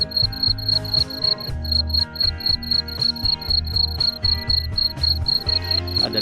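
Crickets at a cricket farm chirp in a dense, continuous chorus of rapid, evenly pulsed trills that repeat steadily and stay close and loud, with no voices heard.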